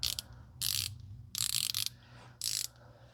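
A 1/4 inch drive ratchet with a round head and recessed reverse switch clicks in four quick bursts of sharp ratcheting, close and crisp against a quiet background.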